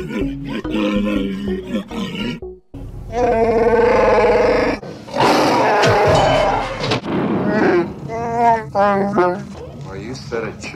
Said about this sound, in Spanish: La voz de Chewbacca es la combinación de sonidos de tigres,